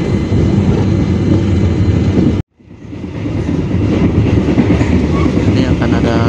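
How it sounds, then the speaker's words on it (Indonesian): A train passes near Karawang station in Indonesia with a loud, dense rumble and rattle of wagons. There is a brief sudden dropout, then the roar swells back up, close and continuous. "Ini akan ada kereta yang akan melintas tadi"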